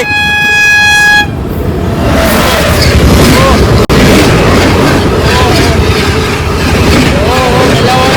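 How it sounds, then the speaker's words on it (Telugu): A train rumbles past nearby with steady roaring noise, preceded by a loud horn blast at the start; squeals and clatter ride over the din. "ఇంకొక ట్రైన్ వస్తుంది మనకి ఆపోజిట్లో"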